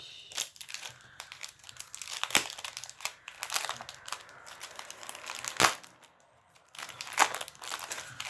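A sealed label on a sticker packet is torn and crinkled open by hand, bursts of close crackling paper and plastic rustle with sharp tearing snaps between quieter pauses, no speech.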